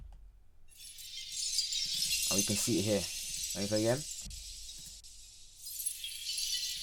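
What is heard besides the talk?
glass shattering sound effect for a game character breaking through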